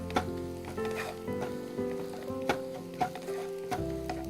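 Onions sizzle gently in a pan as they start to turn pink, a soft steady fry with occasional ticks and stirring clinks, close and moderately quiet with no talking.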